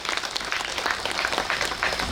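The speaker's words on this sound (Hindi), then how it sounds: "पूरी टीम के लिए एक बार जोरदार तालियां।" An audience at a business meeting in Uttar Pradesh gives a team loud, close applause, with dense, uneven clapping and individual claps standing out for the whole stretch.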